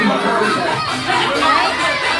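A crowd of children at a 4th birthday party held at a Jollibee restaurant shouts together loudly and excitedly, their voices overlapping in a continuous energetic clamor.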